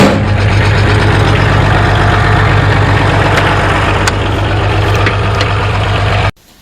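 Kubota KH-191 excavator engine with a blown, holed muffler, idling at a loud, steady, throbbing rumble nearby with a harsh exhaust rasp, running continuously before cutting off abruptly at the end.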